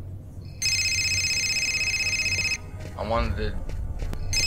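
A telephone rings in the video game Fahrenheit (Indigo Prophecy Remastered), a loud electronic trill that sounds once, pauses while someone briefly speaks, then starts again.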